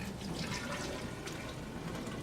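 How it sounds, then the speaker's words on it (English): Hydrogen peroxide is poured into a graduated cylinder, a short steady liquid rush close by, faint and continuous. "So we start off by pouring the hydrogen peroxide into the graduated cylinder."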